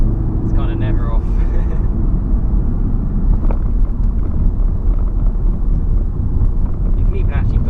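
A VW Golf R with four-wheel drive and traction control switched off pulls hard along winding roads, its engine and tyre roar loud and steady beneath heavy wind buffeting, with a voice talking faintly over it.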